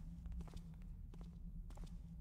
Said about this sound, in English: Hearing footsteps.